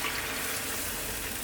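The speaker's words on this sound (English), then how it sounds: "we're going to add some cold water" Water gushes in a steady pour into a pot, a brief continuous splashing rush.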